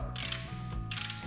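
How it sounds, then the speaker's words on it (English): A ratchet clicks rapidly and steadily, close up, while removing bolts from a 1957 Chevy engine during motor assembly, with two brief bursts of hissing, scraping noise layered over the mechanical whirring. "So we got to take these bolts off"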